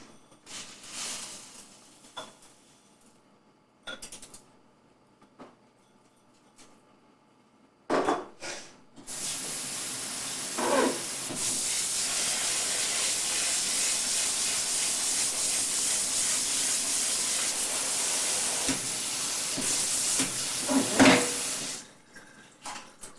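Rice rinses in a colander under a steady stream of tap water for about a minute, a close, constant hiss and splash. Scattered knocks and clinks come before the water starts.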